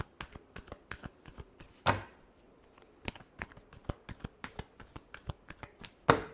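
Tarot cards being shuffled in quick, crisp riffles and taps, close and fairly quiet, with a couple of sharper bridge-like bursts and no talking.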